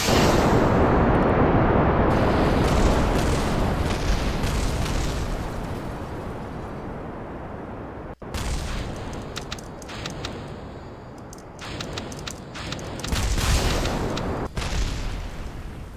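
A rocket engine roars at full throttle in Kerbal Space Program, a loud continuous rumbling blast that dips and shifts, broken by a brief cut and rougher bursts in the second half, no voices.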